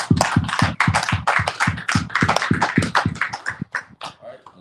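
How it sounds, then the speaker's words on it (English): A small congregation at a Sabbath service breaks into rhythmic, close clapping, a dense run of quick hand claps that carries on for several seconds before thinning out at the end. "Let's give the Most High a round of applause"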